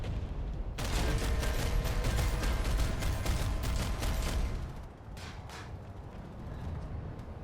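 Rapid gunfire in the video game Planetside 2, a dense, loud burst of repeated shots lasting several seconds, then a quieter stretch with a few scattered shots and ongoing background battle noise.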